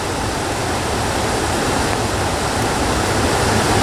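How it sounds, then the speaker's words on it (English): A river rushes steadily during a thunderstorm, producing a loud, continuous broadband roar of water with no breaks and no voices. "to turn on a camera pointed at a river during a thunderstorm"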